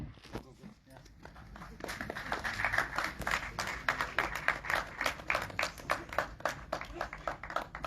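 A crowd claps steadily, moderately loud, with a murmur of voices underneath at a film festival event (IFFI 54); the applause swells after a short quieter start and continues throughout.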